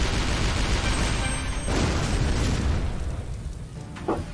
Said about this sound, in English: I'm gonna go for this black hole shot, and it's gonna be amazing